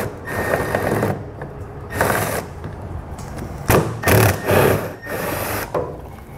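A hand tool removes 8mm fasteners on a 2020 Chrysler Voyager, giving close, short bursts of clicking, ratcheting and scraping separated by brief pauses.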